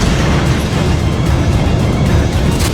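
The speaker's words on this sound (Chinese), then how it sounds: "随着剧烈的爆炸声，两辆战车一前一后开进火焰" Rockets slam into a roadside billboard during a prison death-race car chase, setting off a loud, continuous rumbling blast that fills the whole moment with dense low roar and no pause.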